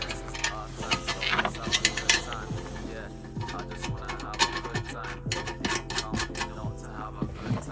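A nut gets tightened onto the front bolt under a bagged Skoda Fabia vRS, with rapid ratcheting clicks and metallic taps repeating close by over a steady low hum.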